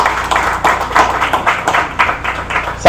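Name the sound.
audience applause at poetry festival launch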